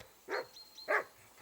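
A dog in the video game Kingdom Come: Deliverance 2 gives two or three short, mid-distance barks spaced about half a second apart, with a steady faint tone running underneath.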